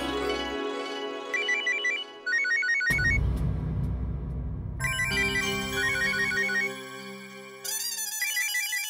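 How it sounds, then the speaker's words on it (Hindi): A mobile phone ringtone plays loudly and continuously, a bright electronic melody with repeating chimed phrases, heard alone in a domestic scene from a Hindi comedy series. "एक मिनट, मेरा फोन बज रहा है।"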